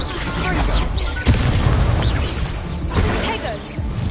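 Confringo explosion spells from the Hogwarts Legacy video game, a dense sequence of booming blasts and crashing bursts that pile up loud and near, with a voice calling out spell names over the effects.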